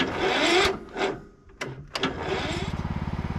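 A Cub Cadet lawn tractor engine cranks in bursts, sputtering and briefly dying between attempts, then a rapid rhythmic chugging crank at the end, close and moderately loud.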